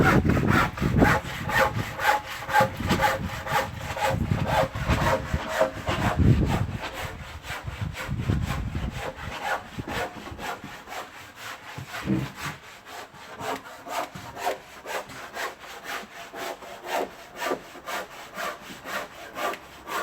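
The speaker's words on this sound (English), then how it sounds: "Let me just cut another piece now." A handsaw cuts steadily through a wooden decking board in fast, rasping back-and-forth strokes that are loud and close, with the rhythm slowing slightly toward the end.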